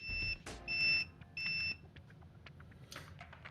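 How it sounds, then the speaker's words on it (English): Vici VC99+ cheap multimeter sounding its auto power-off warning, three shrill, piercing beeps in quick succession, followed by faint clicks and handling noise. "the Vici will give you an audible alarm that it is about to shut down. It'll do that by emitting 5 beeps"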